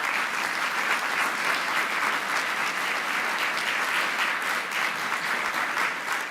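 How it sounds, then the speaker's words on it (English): Steady applause from a conference audience for summit panelists, a dense, even patter of many hands clapping continuously throughout without a break. "I want to give a big round of applause to our panelists here."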